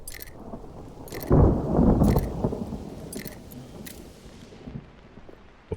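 Thunderstorm in the video game Mind Over Magic: a low rolling rumble of thunder swells early and fades, with steady rain hiss and scattered crackles throughout, no talking.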